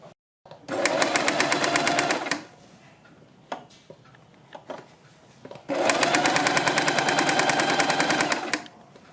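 A sewing machine stitches a neck design in two long, steady, rapid bursts of loud mechanical whirring, separated by a quieter pause with a few handling clicks.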